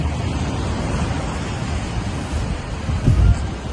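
Ocean surf rolls onto Pensacola Beach, Florida, a continuous broad wash of waves with some wind rumble against the microphone, steady and fairly loud with a slight swell near the end.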